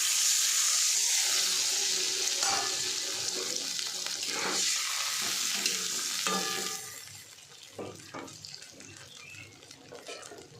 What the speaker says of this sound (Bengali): এবার এর ভিতরে জল দিয়ে দেবো